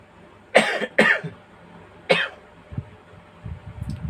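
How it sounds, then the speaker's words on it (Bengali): A man coughs during a devotional talk, three sharp, close coughs in quick succession followed by a fainter, muffled one, with quiet rustling in between. "কাশি হচ্ছে"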